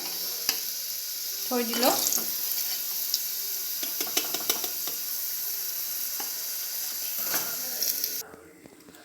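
Onions fry in a pan with a steady close sizzle and occasional stirring scrapes, while someone talks over it; the hiss cuts off near the end.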